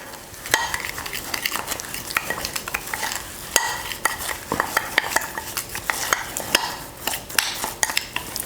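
A spoon stirs a thick homemade face mask mixture in a bowl, producing repeated scraping clinks and wet mixing sounds in an uneven rhythm, close and clear with no speech.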